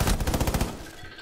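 A rapid burst of automatic gunfire from a video game weapon, about eight close, loud, punchy shots in quick succession before trailing off.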